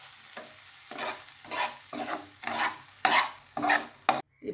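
Cooked keerai greens are stirred in a pan with a soft sizzle, about six distinct scraping strokes of the spoon spaced roughly half a second apart, close and clear with no talking.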